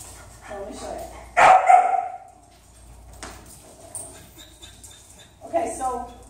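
Dog barking during a walk with a guide or handler, a loud burst of barks near the start and another at the end, with people talking throughout at close range.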